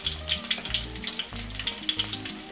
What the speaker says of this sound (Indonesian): Lalu kita mau masukkan lagi ke sini, kita goreng lagi tuh, seperti ini teman-teman.